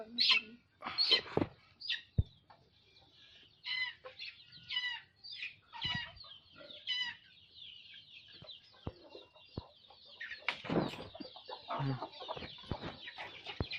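Several hens cluck and chatter nearby in short, irregular bursts, with a few sharper squawks and high chirps breaking through.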